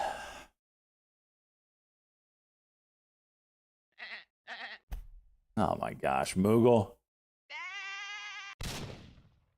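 A sheep gives one sustained bleat right after a few spoken words. A sharp noise burst follows, with silent gaps between the sounds.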